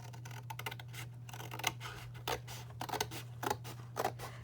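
Scissors snip along a perforated line, giving close, crisp cuts in quick uneven bursts over a faint steady hum.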